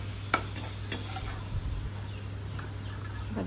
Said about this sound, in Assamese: বাদামখিনি তেলত ফ্ৰাই কৰি আছো